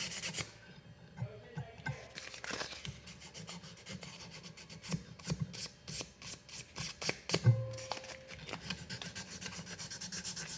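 A marranzano jaw harp frame is sanded with fine 1000 grit sandpaper, giving close, soft, irregular rasping strokes with occasional light taps and handling sounds.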